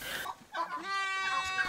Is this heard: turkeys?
yes